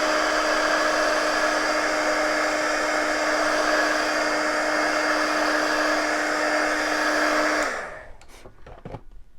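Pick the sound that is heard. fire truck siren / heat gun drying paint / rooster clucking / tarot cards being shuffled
heat gun drying paint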